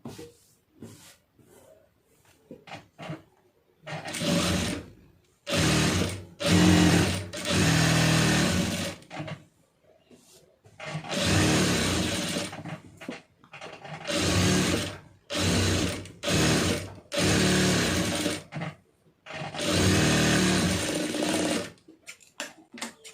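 A sewing machine stitches the lining of a blouse in repeated bursts of close, loud mechanical whirring, stopping and starting many times with short quiet gaps between runs.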